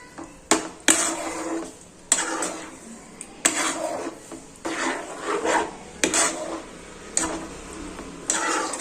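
A spoon scrapes and clatters in a pan as a cheese paneer gotalo mixture is stirred: repeated close, rasping strokes with sharp metallic knocks between them.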